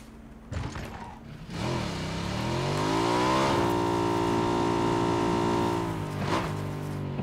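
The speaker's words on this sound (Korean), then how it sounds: "내 오토바이" A motorcycle engine revs and climbs in pitch in a video game, loud and close, holding a steady high drone before easing off, with faint background game noise.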